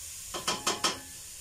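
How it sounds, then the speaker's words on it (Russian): Carrots frying in a pan get stirred with four quick scraping strokes in an even rhythm over a faint sizzle, fairly quiet and close, with no voices. "И помешать морковку"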